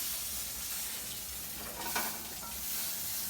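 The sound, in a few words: pork chop sizzling in a pan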